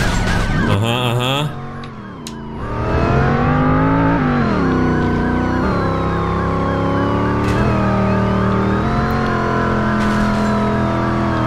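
Police cars chase the player's car in the driving game Driver San Francisco, with wailing, rising and falling sirens layered over loud revving engines and a short burst of crashing noise near the start.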